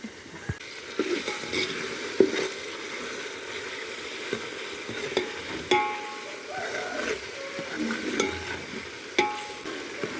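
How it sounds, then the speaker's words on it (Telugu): Mutton curry fries in a pan while being stirred, with a constant sizzling bed broken by irregular scrapes and knocks of the spoon against the metal. "ఇలా మంచిగా కలుపుతూ ఉండాలి"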